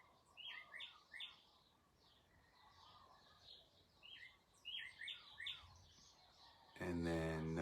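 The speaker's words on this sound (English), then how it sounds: "So I would listen to the birds for a second" Birds chirp in short bursts of several quick notes, fairly distant, over a soft outdoor background; a louder rooster-like call rises briefly at the end.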